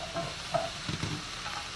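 Whole tomatoes frying in a pan with onion for a summer pasta dish, a brief soft sizzle with a faint stir or clink, no voices.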